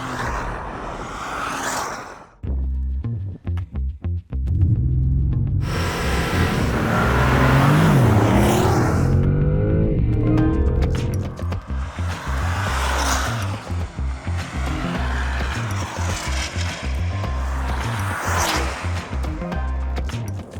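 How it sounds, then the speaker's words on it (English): A Porsche Panamera GTS and a Cayenne GTS launch side by side in a drag race, engines roaring loud and rising through repeated gear changes, with a brief swell as the cars pass close by. "Now allow me to demonstrate how much quicker the Panamera is than the Cayenne, and for that we line them up for a drag race."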